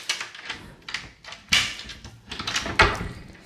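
A door in a hotel room in the Dominican Republic is handled nearby, with a series of sharp knocks, thumps and rattles spread unevenly over a few seconds.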